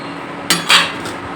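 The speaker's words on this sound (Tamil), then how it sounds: "ஒரு மூடியை போட்டுருவோம், காயெல்லாம் வேகட்டும்." A lid goes onto a pot of simmering sambar with okra, brinjal and radish, making two quick, close metallic clanks with a brief ringing tail over faint background noise.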